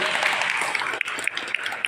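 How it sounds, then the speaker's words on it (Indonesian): Audience applause at an interfaith talk show, a steady mid-level patter of clapping with a few sharper individual claps standing out near the end. "Beri tepuk tangan dong yang meriah."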